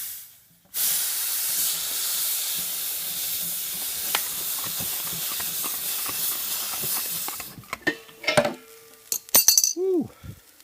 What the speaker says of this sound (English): Quite a bit of gas escaped when I unscrewed it from the bottle.